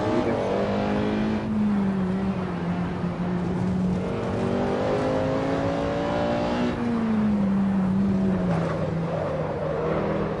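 Porsche race car engine in Assetto Corsa, loud and sustained, its pitch rising and falling through gear changes with a whining harmonic tone and no voices.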